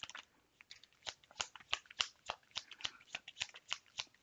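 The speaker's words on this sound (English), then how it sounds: "And this is the last shuffle." Crisp riffling of a deck of tarot cards being shuffled, a quick run of sharp flicks and slaps at close range, with no talking.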